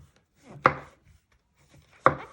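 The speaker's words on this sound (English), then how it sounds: "if you've got big mushrooms, you're just going to chop them into 4" Two crisp, close knife chops through mushrooms on a cutting board, spaced well apart, with faint handling sounds in between.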